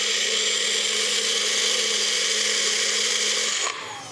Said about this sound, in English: So we just put the lid on the top of the blender, and we're going to blend them till they're smooth.